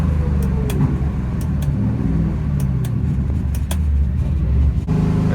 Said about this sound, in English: Basically want to run it through all the gears, hold it there for a little bit